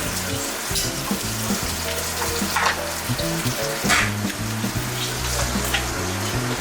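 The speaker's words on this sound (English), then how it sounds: "Rotate the quail, sear on all sides, get a nice golden brown." Quail searing in a hot pan, a dense steady sizzle with brief brighter bursts as the bird is turned, close and moderately loud over a low background hum.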